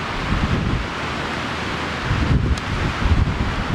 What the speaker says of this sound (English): Just wait for the wind.